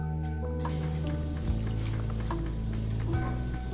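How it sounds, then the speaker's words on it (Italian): Whole eggs being gently folded into a mixture in a bowl in a Michelin restaurant kitchen in Turin, giving soft, wet squishing and slopping under a steady low kitchen hum. "facendo attenzione di rimescolare molto delicatamente fino a quando tutte le uova non sono state incorporate omogeneamente"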